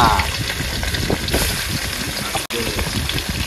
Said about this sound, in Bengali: মাছের লবণ হলুদ মাখিয়ে নিয়েছি এবার মাছটাকে ভেজে নেব